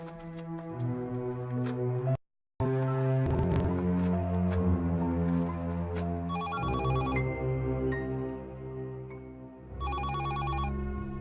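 A telephone rings with repeated electronic bell tones against a layered musical background, the distinct ringing bursts standing out twice in the latter half.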